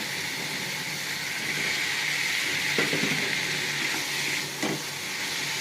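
Fish head dropped into hot fried spices in a pan for a Bengali moong dal dish, giving a steady close sizzle with a couple of brief sharper spits and crackles partway through.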